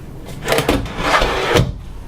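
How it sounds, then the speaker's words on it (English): Kitchen drawer sliding open and shut under a cooktop, a close rumbling roll with a couple of knocks, lasting about two seconds. "We have a slide-out garbage can, and then nice drawers right here."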